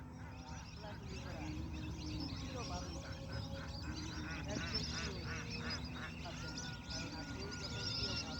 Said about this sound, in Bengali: আপনারা যে ডাকগুলো শুনতে পাচ্ছেন সেইগুলো হচ্ছে অতিথি পাখির ডাক